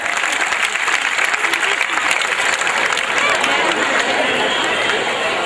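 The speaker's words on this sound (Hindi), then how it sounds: "मैं चाहता हूँ एक बार जोरदार तालियां मैत्री समूह के लिए होना चाहिए" Theatre audience applauds the Maitri group at a stage play about Acharya Vidyasagar's life, with dense, steady clapping filling the hall and a faint murmur of voices underneath.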